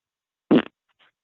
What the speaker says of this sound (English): Quit sniffing up my fart.